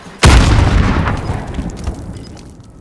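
A grenade blast in Modern Warfare (2019) hardcore Search and Destroy: a single sudden loud boom that hits hard, then a long rumbling decay tailing off over a couple of seconds.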